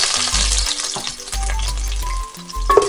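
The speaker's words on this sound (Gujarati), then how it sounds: "બધાને સરસ ચટકવા દઈએ" Cumin, mustard seeds and chopped chillies splutter in hot oil for a stuffed aubergine curry, a loud close crackle with bursts of popping and sizzling that come and go.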